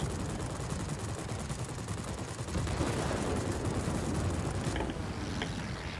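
Rear tail gunner machine gun firing from a Skua aircraft in World of Warplanes, a steady rattling stream of rapid shots that runs throughout under engine drone, with a brief gap and sharp clicks toward the end.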